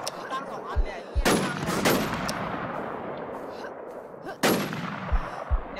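M1 rifle gunfire in the video game Infestation: three sharp, loud reports spaced a couple of seconds apart over a bed of in-game ambient noise.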